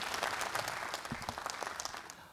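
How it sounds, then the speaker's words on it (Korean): An audience at a Lions Club service award ceremony welcomes a speaker to the stage with applause: a soft, continuous patter of many hands, with a few sharper claps standing out, fading slightly toward the end. "여러분 큰 박수로 환영해 주시기 바랍니다."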